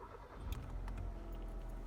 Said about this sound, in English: So let's go ahead and start the car.